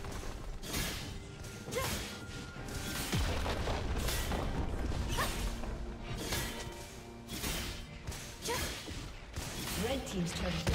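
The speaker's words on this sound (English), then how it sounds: "Red team's turret has been destroyed." Turret destruction in League of Legends, a dense stretch of booming impacts, crashes and whooshes layered with game effects, fairly loud and continuous with no clear break.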